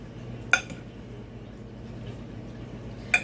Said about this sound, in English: and then I stir it up really good in the casserole dish